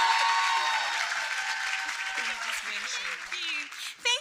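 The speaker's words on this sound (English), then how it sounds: "Let's give her a round of applause." Applause from a conference audience for a program director, fairly loud and continuous, with voices and a few whoops mixed in before it fades.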